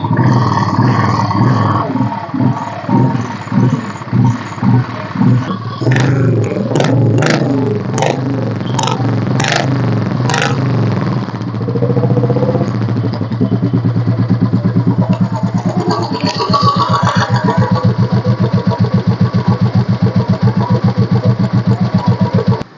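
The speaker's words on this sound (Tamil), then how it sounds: "Royal Enfield engine super condition இருக்குங்க" A used Royal Enfield Thunderbird 350 with self-start, a 2010 model said to have its engine in super condition, cranks and catches, then settles into a loud, close, thumping single-cylinder idle with a few revs along the way.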